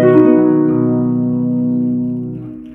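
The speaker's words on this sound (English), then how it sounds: "Like arpeggios that sound like this." A harp sounds a quick rising arpeggio whose notes then ring together and slowly fade, a single clear phrase heard alone.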